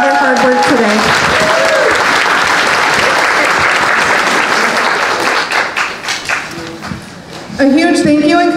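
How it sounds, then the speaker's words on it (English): Loud crowd applause breaks out at an outdoor Alzheimer charity walk for the volunteers, sustained clapping with cheering that thins out toward the end, and voices talking over it. "Can I get a huge round of applause for the volunteers and co-chair"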